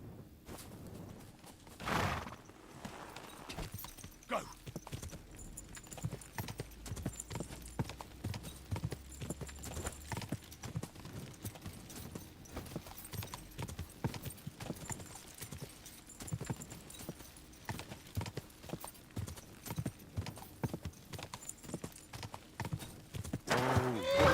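Horse hooves clip-clopping in Kingdom Come: Deliverance II, a long steady run of close, crisp hoof beats on hard ground with a neigh near the start and another horse sound at the end.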